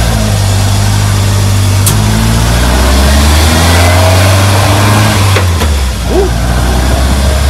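Steady, loud running of a restored 1965 VW Beetle engine, a constant low droning hum with slight pitch shifts as it drives, and a brief cheer from a voice.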